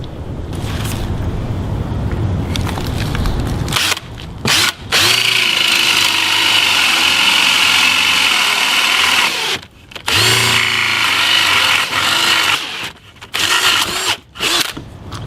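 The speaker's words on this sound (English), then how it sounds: "when I'm drilling through, it won't drill all the way through to the other side and grab your bit" A power drill bores through wood while pocket door hardware is being installed, a loud, steady motor whine running for long stretches with a few brief stops and restarts.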